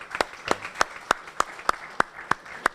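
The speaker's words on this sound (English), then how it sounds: "they really deserve a big round of applause." Audience applause at an Elite Airways press conference in Sarasota–Bradenton: sharp, evenly spaced claps, roughly three per second, forming a steady rhythmic patter from a small group.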